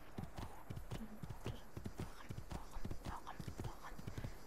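Horse hooves clip-clop in a quick, steady rhythm while riding in Assassin's Creed 2, close and clear, with faint game ambience and a soft voice underneath.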